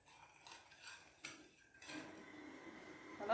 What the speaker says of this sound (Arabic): نحطهم مع اللبن ونقلبهم كويس جدا